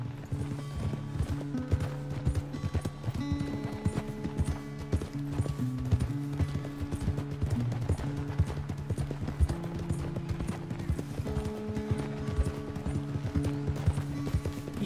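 A horse's hooves clip-clop steadily at a walking pace in the Red Dead Redemption 2 video game, a continuous rhythmic clatter joined by light tack and gear rattles.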